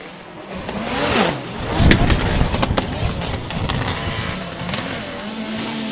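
A Nissan 180SX drift car in a competitive drift battle at the Drift Kings Asia Cup revs hard, its engine note swooping up and down over continuous tire and track noise, with a sharp bang partway through.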